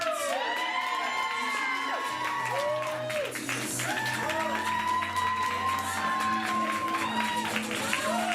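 Crowd at the FIST 2019 match event claps, cheers and whoops for the first team, a dense, steady roar of shouts and applause with high excited voices throughout.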